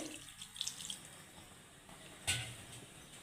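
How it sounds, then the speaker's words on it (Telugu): Water is poured into a pot of chopped vegetable pieces while cooking an onion-and-egg sambar, giving faint, brief splashes and trickles over a quiet kitchen background. "ఇప్పుడు కొన్ని వాటర్ పోసేసుకుందామండి"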